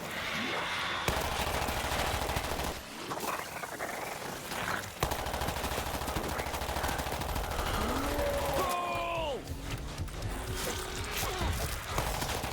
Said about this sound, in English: Try to clear them with headshots as well as the SMG fire.